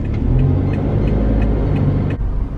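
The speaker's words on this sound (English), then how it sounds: "And it's traffic." Steady low road traffic on a busy street, cars rumbling and an engine humming close by, continuous without a break, with faint higher ticking on top.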